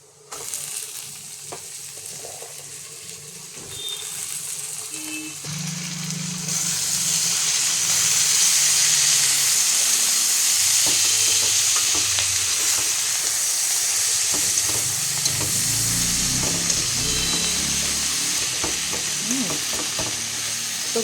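Fenugreek greens dropped into a hot pan and stir-fried, a faint clatter first, then a loud, steady hiss of sizzling steam with scraping stirs that carries on to the end.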